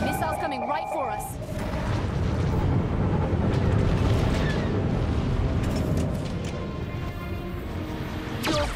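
Missiles exploding in the Gunship video game, a loud continuous roar of blasts and rumbling booms with a warning tone at the start and a voice talking over it.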